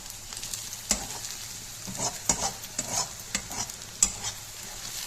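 Onions frying in a pan for a tilly curry, stirred steadily with a spoon, giving a soft continuous sizzle broken by repeated sharp scraping and clinking strokes against the pan, close and moderately loud.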